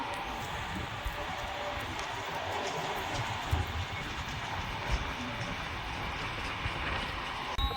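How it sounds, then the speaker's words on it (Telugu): A train rolls past at a distance near Swarnagiri, a steady, muffled rumble with faint rhythmic clatter that holds at an even level throughout. "అక్కడి నుంచి ట్రైన్ పోతుంది చూడండి, ట్రైన్ వెళ్తూ ఉంటుంది"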